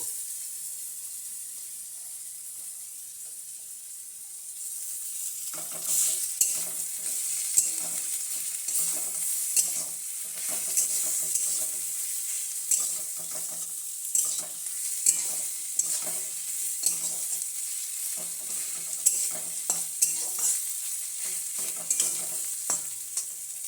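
Chicken giblets and liver sautéed with ginger and garlic paste start sizzling after a quiet opening, then keep crackling steadily in the pan with repeated scraping strokes of a spatula, close and fairly loud.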